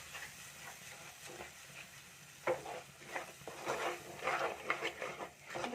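Metal spoon stirring fish masala with turmeric powder in a pan, producing repeated close scraping and soft clattering strokes over a faint background sizzle, with no talking.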